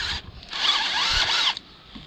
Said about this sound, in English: thought I'd just put some more steel filings all over the boat by drilling a hole in it